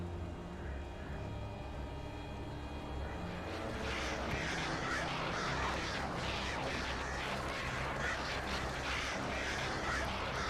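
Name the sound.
possessed birds in video game Alan Wake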